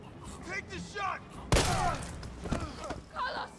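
A sharp gunshot bursts out once amid Resident Evil 3 game noise, with a second fainter shot soon after, while people talk over it.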